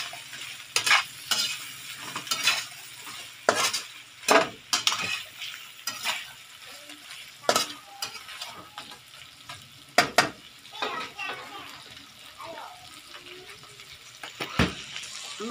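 Seafood paella rice stirred in a pan, with repeated sharp scrapes and clacks of the utensil against the pan in irregular bursts over a soft sizzle. No voices.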